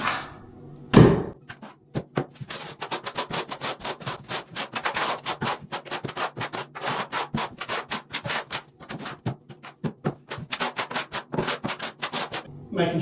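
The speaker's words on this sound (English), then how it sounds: "Making sure I use the full notches of the trowel as I go, holding it at a 45-degree angle" A notched trowel scrapes tile adhesive across a floor for hexagon tiles, giving a long run of close, rhythmic rasping strokes that carry on steadily with short pauses.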